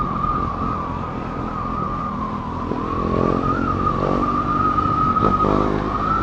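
A motorcycle with a fully carbon Remus exhaust from Austria drones steadily at high revs, a sustained engine note that swells slightly as the throttle is held open, loud and close with no talking.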